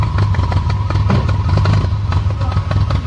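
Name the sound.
Toyota Vios 1NZ-FE engine idling with stock exhaust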